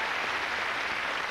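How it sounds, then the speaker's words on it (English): Studio audience applause on a British TV game show, a brief, continuous burst of many hands clapping at an even level. "I think I'll give him a round of applause."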